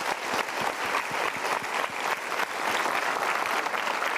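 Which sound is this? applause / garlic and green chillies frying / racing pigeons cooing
applause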